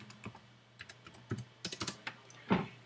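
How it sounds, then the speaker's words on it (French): Someone types an email address and password on a computer keyboard: a burst of close, crisp keystrokes in an uneven rhythm, clustering densely before a final louder press, with no talk. "je rentre l'email comme identifiant et je mets le mot de passe"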